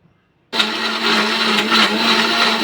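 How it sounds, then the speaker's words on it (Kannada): A mixer grinder blending ginger, garlic, coconut, coriander, fried onion and tomato starts abruptly after a short silence and runs at a loud, steady whirr. "ಗ್ರೈಂಡ್ ಮಾಡ್ಕೊಂಡ್ಬಂದೆ"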